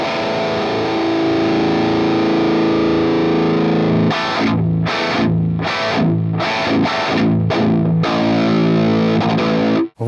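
Distorted electric guitar played through a Hotone Ampero II Stomp multi-effects unit with its Bright switch off, a loud sustained chord ringing for four seconds, then a run of choppy, rhythmic palm-muted stabs, with no talking.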